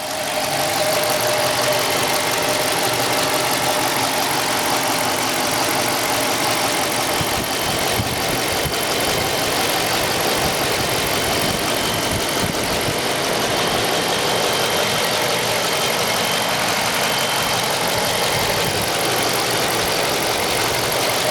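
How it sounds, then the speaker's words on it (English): A 2016 Dodge Charger 5.7 V8, a former highway patrol car, idles steadily and loudly up close for a long stretch, a continuous rumble with a faint rhythmic pulse and no talking. "I'm gonna go quiet here for a little bit so that you can hear the engine"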